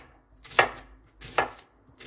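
Two sharp knife strokes chopping onions on a board for a traditional village pig-slaughter meal, spaced apart and close by, with quiet pauses between.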